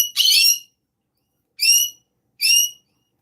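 Pet birds give three bright, high whistling calls near the microphone, one long call followed by two shorter ones, separated by silence.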